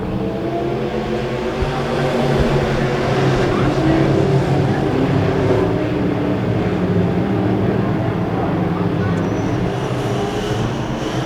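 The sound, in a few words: modified race cars racing at Springfield Raceway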